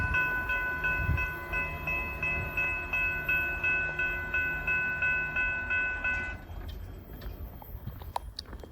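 A rock train rumbles past close by at a road crossing with a steady rhythmic clatter of wheels over rail joints, then the noise drops away and fades to quieter ambience.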